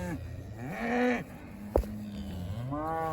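A cow on a ranch lets out two long, loud moos, one at the start and another at the end, with a brief knock between them and faint outdoor background.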